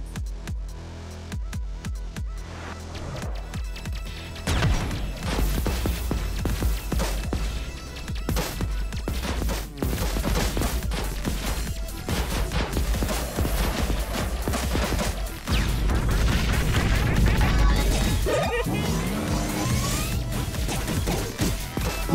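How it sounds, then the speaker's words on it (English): Repeated heavy booming cannon blasts from a spaceship in a dense, continuous barrage with crashing impacts, loud and close, layered over video game sound effects. "Cannons."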